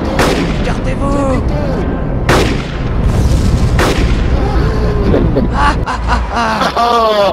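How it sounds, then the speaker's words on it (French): Gunfire at a live-action combat event: several sharp, loud shots crack out at irregular intervals, close by, amid shouting voices and frantic talk. "Il me tire dessus!"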